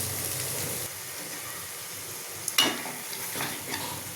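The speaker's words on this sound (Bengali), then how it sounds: "এই যে পাবদা মাছ ভাজা রয়েছে সেগুলোকেও একটু একটু করে ছাড়বো" Pabda fish frying in oil in a pan, a steady soft sizzle with a few scraping stirs of a spatula near the middle, close up and moderately quiet, with no voices.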